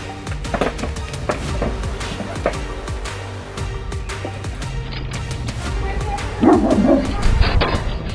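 A large dog that has run out at a delivery driver barks and yips in repeated sharp bursts amid scuffling and background noise, with a brief voice heard.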